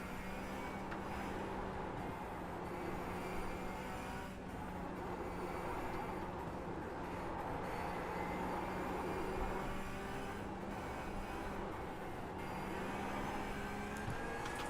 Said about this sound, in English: Listen to them straight cut gears.